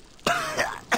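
A Gears of War 2 game character coughs harshly three times, close and loud, with short gaps between the bursts and nothing else heard.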